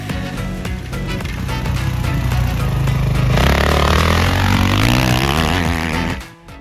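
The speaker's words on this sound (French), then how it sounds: "au cône bleu, on va ouvrir les gaz progressivement jusqu'à arriver au cône rouge, où là, il va falloir accélérer à fond" A motocross motorcycle accelerates out of a turn, its engine note climbing and rising loud and close, the revs building steadily before cutting off abruptly at the end.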